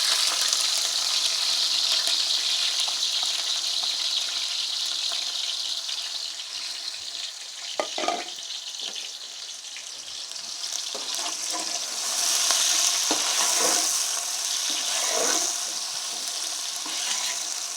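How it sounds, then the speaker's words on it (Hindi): Onions frying in ghee with raisins and carrots for Kabuli pulao, a steady soft sizzle with occasional stirring scrapes and clinks, close and moderately quiet, with no talking. "अभी हम इसमें प्याज ऐड कर रहे हैं।"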